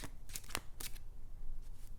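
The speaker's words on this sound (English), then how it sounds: "In this video I'll be shuffling 2 different decks." A tarot card deck being shuffled close up in a quiet room, giving several soft riffling bursts and crisp flicks at a low, intimate level.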